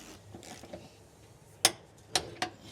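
A 15 mm wrench torques the body mount bolts on a 1980-96 Ford Bronco. Three sharp metallic clicks sound close by, one by itself and then a quick pair, over a quiet background with no talking.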